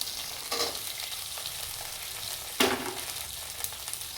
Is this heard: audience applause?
no